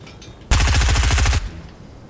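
A gun firing in the video game Fortnite, a single loud rapid burst of automatic shots lasting under a second, clean and close with no talk over it.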